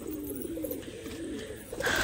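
Pigeons coo in soft repeated rolls inside a loft on a rainy day, a steady close murmur with a brief higher chirp near the end and no voices.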